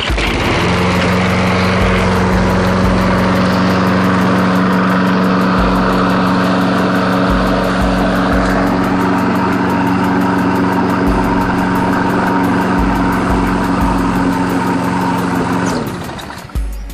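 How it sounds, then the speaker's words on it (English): A Troy-Bilt lawn mower engine runs rough with a carburetor that chokes out, giving a loud, close, steady droning buzz with strong harmonic hum for most of the stretch before it sputters and cuts near the end. "the carburetor definitely needs to be cleaned. It starts, but then it like chokes out,"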